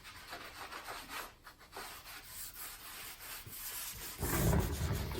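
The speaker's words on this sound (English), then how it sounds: "The bonus of a hard wax oil or like this is it basically you rub it on almost real time." A cloth rubs hard wax oil into an oak surface with soft, repeated scrubbing strokes, quiet and close, swelling into a firmer rub near the end.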